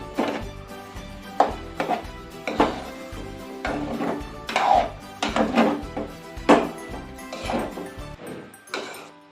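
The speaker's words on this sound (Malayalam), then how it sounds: "നമ്മുടെ അരപ്പും കപ്പയെല്ലാം കൂടെ നന്നായിട്ട് ഇളക്കി എടുക്കാം" Chopped tapioca being stirred with ground masala paste in a pot, giving repeated scraping and knocking strokes at an irregular rhythm, moderately loud and close, with no talking.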